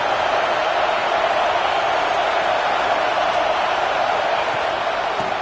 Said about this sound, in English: And this crowd coming to life here, trying to help the defense get a stop with the offense pinned back.